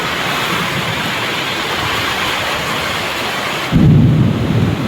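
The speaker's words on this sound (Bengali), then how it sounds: "অঝরে বৃষ্টি চলছে, অঝরে।" A powerful thunderstorm pours heavy, steady rain in a dense hiss, and a deep, loud rumble of thunder breaks in near the end.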